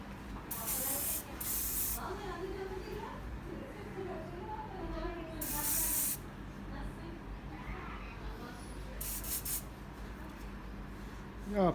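Hairspray from an aerosol can is sprayed onto a hair bun in three separate hissing bursts, close and loud, over a soft voice talking throughout.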